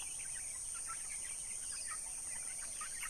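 Backyard free-range chickens fed organic feed cluck softly and steadily in scattered bursts, with a constant high-pitched insect-like whine over a faint outdoor background.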